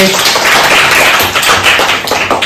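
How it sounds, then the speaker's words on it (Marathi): Quick burst of hand clapping for a child who answered a word puzzle correctly, loud and close, a short patter of claps lasting a couple of seconds. "टाळ्या वाजवा तिच्यासाठी"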